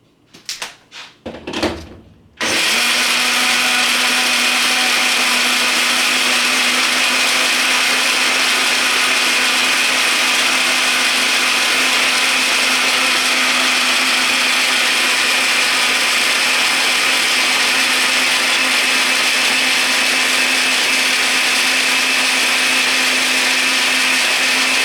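A few knocks and clatters come first, then an electric mixer whirs into washing powder as a loud, steady, high drone that runs alone to the end.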